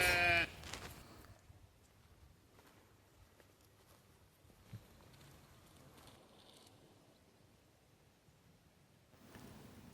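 A sheep kept outdoors on a homestead in Norway lets out one loud, close bleat at the start, followed by quiet open-air ambience with faint distant rustles.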